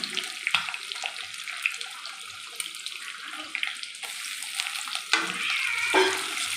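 Cumin seeds and raw onion fry in oil for an egg tarka, with a continuous loud sizzle and irregular stirring scrapes, plus a brief run of tap water near the end.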